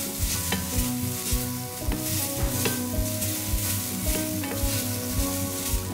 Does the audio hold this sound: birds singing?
no